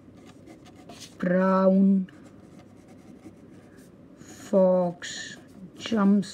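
A Hero 329 fountain pen nib scratches softly across paper in short continuous strokes, close and quiet, while someone speaks in brief bursts over it.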